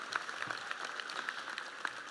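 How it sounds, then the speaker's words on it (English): Applause from a graduation ceremony audience, a dense continuous patter of many hands clapping at moderate distance, fairly soft and even with a few sharper claps standing out. "Let's applaud them, please."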